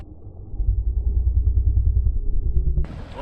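Deep thunder from a storm out at sea rumbles steadily for a few seconds, low and rolling, heard on a fishing boat 20 miles offshore with wind noise around it.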